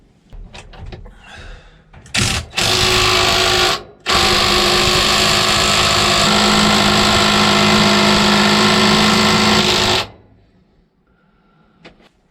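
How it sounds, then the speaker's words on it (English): An impact wrench drives a borrowed bearing press tool on a Jaguar MK2 rear end in a loud, close, sustained buzzing rattle lasting several seconds, preceded by a brief burst and followed by quiet. "we're going to get the impact wrench and show this guy his boss"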